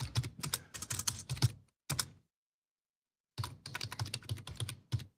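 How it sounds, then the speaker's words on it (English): Fast clatter of typing on a loud computer keyboard, captured close by a shotgun microphone: two dense bursts of keystrokes separated by a silent pause of over a second, with no voices. "I know my keyboard is loud, but that's because I'm using the shotgun mic instead of the other mic that we use"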